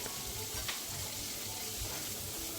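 Chopped tomato frying with spices and salt in a pan for thin mung dal, a close, steady sizzling hiss with occasional soft stirring scrapes.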